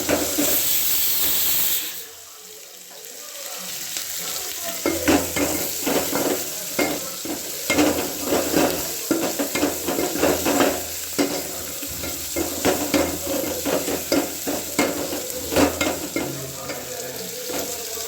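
Dal being tempered as spices hit hot oil in a pan, Karnataka Mandya village style: a quiet start, then a loud burst of sizzling and hissing steam with repeated stirring scrapes that continue steadily to the end.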